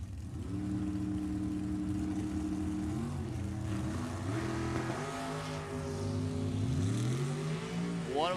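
At a drag strip start line, including an Austin Healey and a dragster, engines idle and rumble with steady tones, then rev and rise in pitch near the end, while an announcer talks over the PA.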